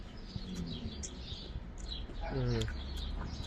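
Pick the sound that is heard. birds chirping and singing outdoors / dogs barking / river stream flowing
birds chirping and singing outdoors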